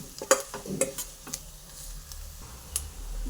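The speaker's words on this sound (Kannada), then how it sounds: "ಸ್ವಲ್ಪ ಗರಂ ಮಸಾಲ, ಎಣ್ಣೆಯಲ್ಲಿ ಚೆನ್ನಾಗಿ ಫ್ರೈ ಮಾಡ್ಕೋಬೇಕು ಇದನ್ನು" Garam masala frying in oil, stirred with quick metallic scrapes and taps over a soft, low sizzle, close up.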